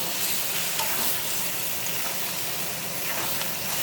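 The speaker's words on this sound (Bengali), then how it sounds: "বেগুন দিয়ে মাছ দিয়ে একদম লাল লাল করে ভেজে নিচ্ছি।" Eggplant and fish fry in a pan with cumin, ginger, chili paste and tomato paste, giving a dense, loud, continuous sizzle with steady crackle throughout.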